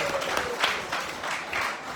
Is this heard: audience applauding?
yes